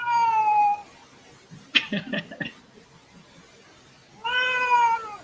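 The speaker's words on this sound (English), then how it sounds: "I hear a cat." A pet cat meows indoors, two drawn-out, fairly loud calls with a burst of brief noises between them.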